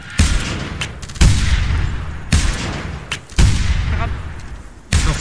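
Loud gunfire in the prehistoric hunting game theHunter: Primal during a raptor hunt, five heavy booming shots spaced about a second apart, each with a long rumbling decay, close and dominant.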